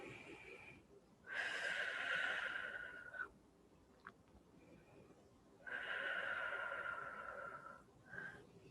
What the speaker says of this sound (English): Take a breath or two.